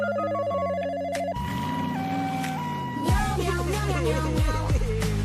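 A telephone rings electronically during a call for an ambulance, first a beeping tone pattern, then wavering siren-like tones and ringing chimes, loud and close with no speech.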